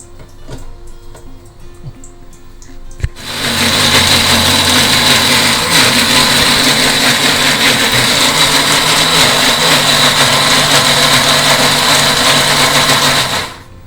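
A mixer grinder grinding idli batter switches on after a few quiet seconds and runs loud, close and steady with a high-pitched whirring motor whine until it stops at the end.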